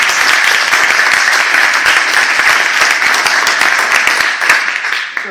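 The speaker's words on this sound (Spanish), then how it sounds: "Pues un aplauso a Carlos, por favor." An indoor audience bursts into dense, sustained applause that holds steady for several seconds, then thins and tapers off toward the end.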